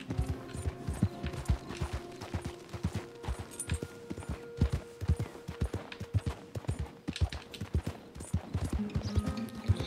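Rapid horse hoofbeats in Red Dead Redemption 2 clip-clop steadily on hard ground, a continuous galloping rhythm with a faint mechanical hum behind it.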